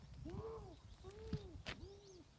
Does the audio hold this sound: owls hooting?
yes